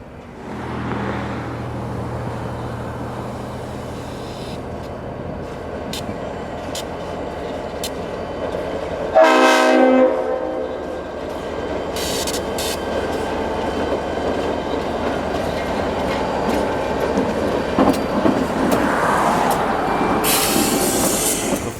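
A locomotive's RS5T horn sounds one short, loud blast over the steady rumble and clatter of a train rolling past.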